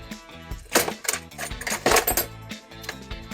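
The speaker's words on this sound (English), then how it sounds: "Look at all those keys, and more keys" Lots of metal keys jingling and clinking while being handled, with irregular bright rattles and jangles unpacked from the accessory box of an OMTECH PRO 100W laser cutter crate, close and alone with no talk.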